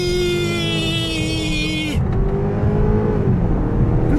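A 2018 BMW 530e G30 hybrid sedan pulls away from a standing start. Its steady electric whine cuts off after about two seconds, then broader, rougher engine and road noise builds, loud and close.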